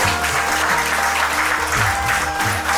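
Applause at an Alakananda Association 25th anniversary ceremony honouring Shri Om Prakash Raghuvi, steady dense clapping from a large audience filling the hall continuously, with a faint voice underneath.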